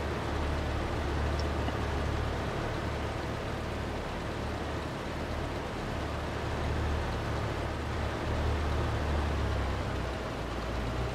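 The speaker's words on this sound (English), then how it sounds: "And the autobahn is like 300-400 meters away." Autobahn traffic 300 to 400 meters away comes through a wide-open window as a steady, distant low rumble and wash of noise, continuous and even throughout with no one speaking.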